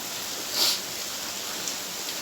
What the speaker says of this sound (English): If rain dey fall, just try see the rain.